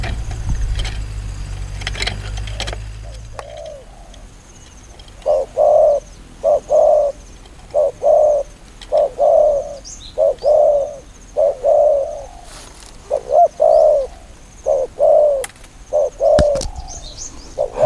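A dove coos outdoors in a steady series of short, mellow calls repeated in small groups with brief pauses between them, clear and fairly close, over faint background hum and an opening rumble of passing traffic.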